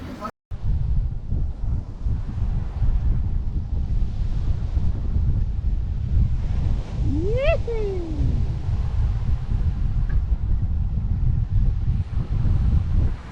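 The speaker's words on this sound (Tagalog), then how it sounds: "Ayun na yung alon, no?" Steady roar of ocean surf and wind buffeting the microphone, loud and continuous, with a brief rising whistle-like tone in the middle.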